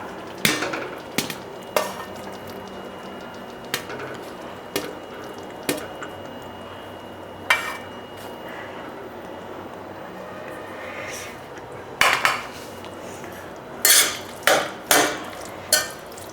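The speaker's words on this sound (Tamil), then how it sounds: "நீங்கள் சாதத்தை வந்துங்க இந்த கிரேவியில் போட்டு நம்ம கலக்கிடலாம்" Cooked rice being stirred into tamarind gravy in a pot, with soft mixing scrapes and a series of sharper spoon knocks against the vessel, growing more frequent toward the end, with no one speaking.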